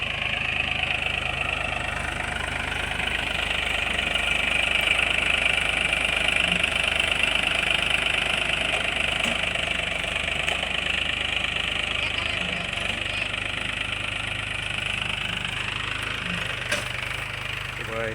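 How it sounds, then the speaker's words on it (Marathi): A tractor engine runs steadily while ploughing a farm field in Konkan, a loud, continuous mid-pitched drone with a faint knocking texture that holds unchanged for the whole stretch. "हा ट्रॅक्टर नांगरतो इकडे"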